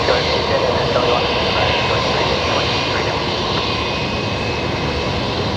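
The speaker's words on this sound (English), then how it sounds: "this is Qantas Link A29 Delta coming in from Moranbah" A QantasLink passenger plane arriving at Brisbane Airport gives off a steady, loud engine roar that fills the whole stretch without letup. Faint voices run underneath it.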